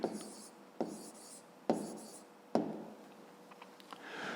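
Pen or chalk writing out the solution to a school equation, four distinct strokes with scratchy tails at roughly regular intervals, close and quiet with no voice.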